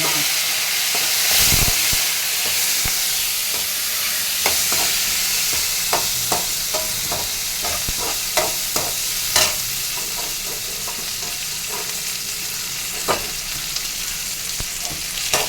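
Onion, garlic, tamarind and curry leaves for pirandai chutney fry loudly in a pan, a dense constant sizzle broken by frequent sharp clicks and scrapes of a stirring spoon, close and without speech.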